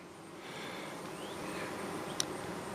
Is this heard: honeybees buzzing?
yes